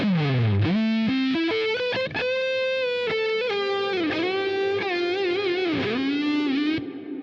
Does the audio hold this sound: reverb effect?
yes